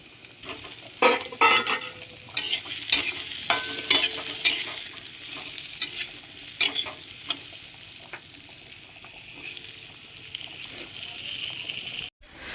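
Onions and tomatoes fry in a pan at home, a steady crackling sizzle broken by bursts of scraping and stirring during the first half, then settling into a quieter sizzle, with no talking.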